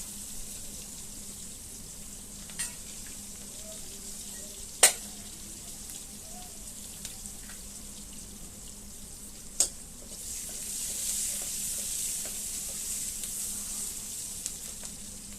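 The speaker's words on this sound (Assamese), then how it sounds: "ভালদৰে গৰম হোৱাত এতিয়া আমি কেৰাহীত তেলত দিলোঁ কুটি থোৱা পিঁয়াজ" Chopped onions fry in hot oil in a wok for a fish curry. A soft, steady sizzle runs throughout, broken by a few sharp clicks of stirring and growing slightly louder near the end.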